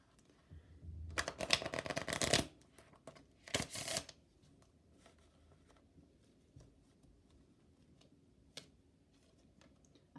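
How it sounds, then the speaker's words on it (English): Kipper oracle cards being shuffled, with two bursts of riffling flutter near the start followed by soft scattered ticks and taps of cards being handled, close and quiet with no talking. "So I'm pulling 2 Kipper cards."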